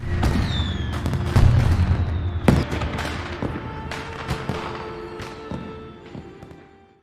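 Fireworks crackle and pop in rapid bursts, with several sharper bangs among the steady crackling, gradually thinning out toward the end.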